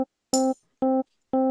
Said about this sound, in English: you just hear a tambourine